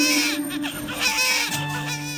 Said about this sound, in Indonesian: terdengar tangisan bayi yang dilahirkan dengan selamat